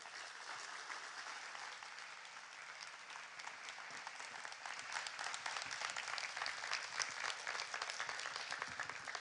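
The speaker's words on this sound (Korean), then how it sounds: "우리 선교사님 등단하실 때에 우리 큰 박수로 우리 모시겠습니다" Sustained applause from a church congregation at a Friday evening worship service, welcoming a missionary to the stage; steady, dense clapping that swells slightly louder toward the end, with no talking over it.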